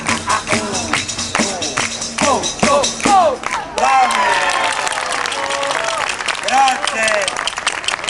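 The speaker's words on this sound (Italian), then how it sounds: "un applauso a questi danzatori" An audience applauds dancers at a live show, a steady wash of clapping and crowd noise with a host's voice talking over it throughout.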